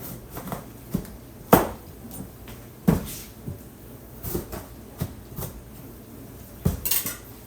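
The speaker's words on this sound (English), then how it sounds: "So now it's cutting the ends off. I'm going to cut it in half." A knife chops through an acorn squash on a kitchen surface, giving several sharp, close thunks and knocks at irregular intervals with faint clatter of utensils between them, and no voices.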